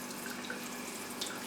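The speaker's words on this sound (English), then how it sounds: "I think I'm just going to run these under the tap" Tap water runs steadily over potted plants in a kitchen sink to rinse off dust, a soft continuous splash with faint drips and no talk.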